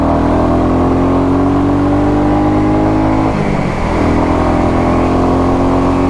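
A Classic 350 motorcycle engine drones loudly and steadily while riding at around 80 to 90, a deep thumping hum with a brief dip in pitch midway before the engine settles back into its even note.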